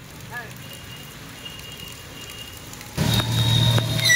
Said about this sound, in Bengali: বৃষ্টি পড়ছে, আমি ভাবলাম হয়তো আসবেন না।